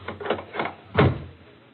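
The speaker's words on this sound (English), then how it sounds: "First thing to do is bolt the door." A door being bolted shut as a radio drama sound effect: a few soft knocks and rattles, then one firmer clunk of the bolt sliding home, close and fairly quiet, with no talk.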